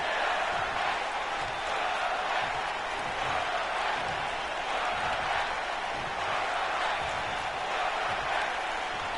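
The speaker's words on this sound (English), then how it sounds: "Fans are cheering it." A wrestling arena crowd roars with a sustained, loud wash of cheering and noise that holds steady throughout, with no clear voice on top.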